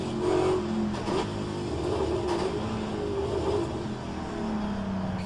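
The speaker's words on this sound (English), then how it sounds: "Oh, this engine is quite loud." A car engine runs loud and near at Mont Tremblant, revving with shifting pitch and a few sharp transient clicks over a steady roar.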